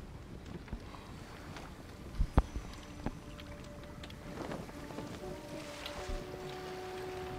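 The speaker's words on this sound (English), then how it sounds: "All right, let's get on this boat." A boat moves across water in Assassin's Creed Origins, with a low steady wash and wind noise, a few sharp knocks and creaks, and soft splashing at moderate distance.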